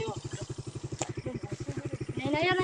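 A motorcycle engine idles close by with a steady, regular chugging pulse, rising a little toward the end as someone starts talking over it.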